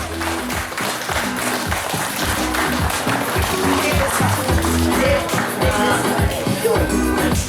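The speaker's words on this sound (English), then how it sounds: "So give yourself a lusty round of applause." Children and families applaud at a kids' summer camp concert, steady loud clapping throughout, layered over music with a low beat running underneath.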